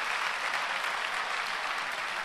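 A church audience claps in steady, dense applause, a continuous crackle of many hands at an even loudness for a couple of seconds with no break.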